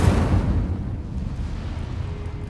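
Incendio fire spell cast in Hogwarts Legacy, a loud whooshing burst of flame with a booming low rumble at the start that fades into a sustained roar.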